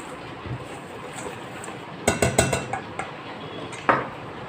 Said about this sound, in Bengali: এই শুকনো উপকরণগুলো আগে একটু মিশিয়ে নিলাম।